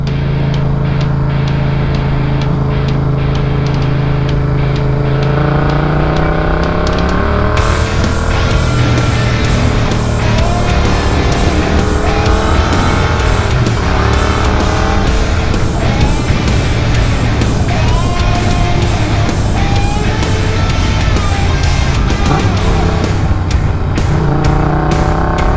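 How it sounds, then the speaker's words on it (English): A car driving around a plaza in Arizona, its engine a steady, loud continuous drone with shifting tones as it accelerates and cruises, no talking. "I'm just driving around right now."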